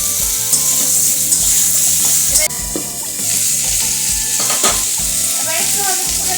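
Sliced mango is stirred into hot oil with Bengali five-spice for a sweet-sour chutney, giving a loud, continuous close-up sizzle with scraping stir sounds and no talking.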